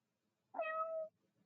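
A single clear cat meow rises and holds for about half a second, close and alone against near silence, in the video game Steam Prison.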